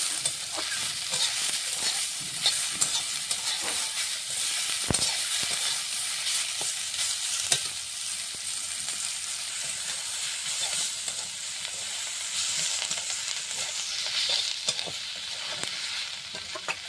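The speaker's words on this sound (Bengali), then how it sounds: "ওখানে কারি পাতাটা ভাজা হচ্ছে" Curry leaves fry in a pan, a continuous sizzle, steady and close, broken by scattered clinks and scrapes of a spoon stirring.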